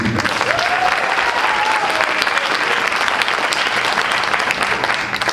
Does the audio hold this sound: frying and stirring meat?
no